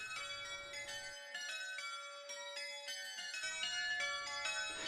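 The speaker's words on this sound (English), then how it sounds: "The chambre ring has 6 bells that are rung in the same way as those in churches and cathedrals." Six bells of a portable chambre ring sound at an outdoor festival, rung in the church change-ringing style, with bright, overlapping metallic strikes in a steady rolling sequence.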